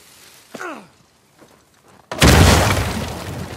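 Quiet Uncharted 4: A Thief's End game ambience with a short voice sound, then a sudden loud dynamite explosion bursts in and roars on, broad and booming, slowly fading.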